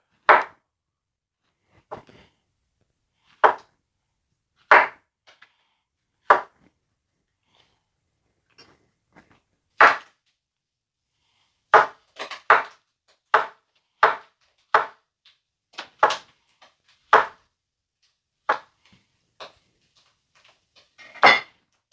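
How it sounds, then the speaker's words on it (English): A knife slices summer squash into rounds on a cutting board, giving sharp isolated chops, sparse at first, then quicker and more regular, close and clear with no talk. "Now we're going to slice our squash into rounds."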